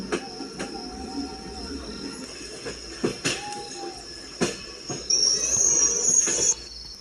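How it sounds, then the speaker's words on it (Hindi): An intercity express train pulls into a station at night in the Railway Simulator India game, with rolling rail clatter, brief high squeals and periodic clunks, then a louder high-pitched brake squeal before stopping. "अपनी ट्रेन को खड़ी कर दिए हैं पटना जंक्शन के ऊपर।"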